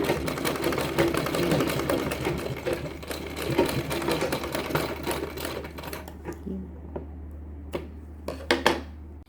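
A sewing machine stitches a lungi, running in steady rapid bursts with a continuous mechanical whir, then slowing into a few short separate runs near the end as a reverse stitch is put in. No one speaks.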